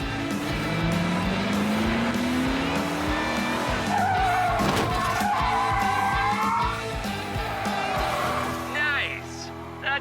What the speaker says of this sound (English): Even though Brian slides in perfectly sideways and hits the very end of the strip